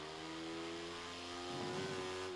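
Motorcycle engine in the racing game Ride 3, revving steadily with a sustained harmonic drone that swells louder toward the end, close and continuous with no talk.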